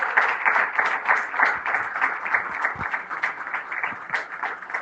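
Church congregation applause rolls on steadily, a moderately loud, slightly pulsing wash of many hands clapping together without any talking.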